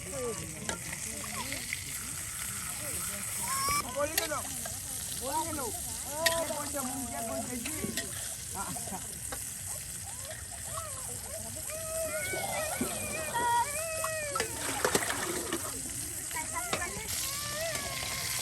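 Tilapia fish fry in oil with a constant crackling sizzle and occasional stirring and splattering, at moderate volume, while people talk over it throughout.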